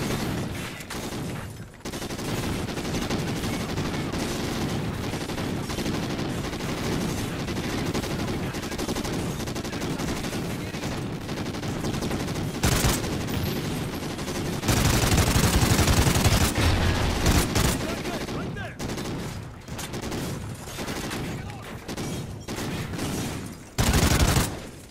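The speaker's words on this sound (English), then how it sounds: "You do realize you guys have bullets as well. Ow. I'm taking fire over here." Sustained gunfire from Call of Duty: Ghosts single-player, dense automatic bursts and shots running almost continuously, with heavier booming volleys near the middle and end.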